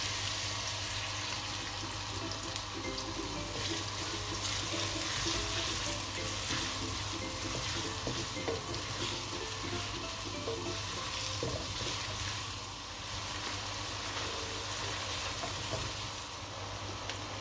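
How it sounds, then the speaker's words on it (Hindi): Onions sizzling and frying in hot butter in a karahi, a steady soft crackle that runs throughout with occasional stirring noises and no talking. "तो बटर गर्म हो गया तो हम डालते हैं प्याज।"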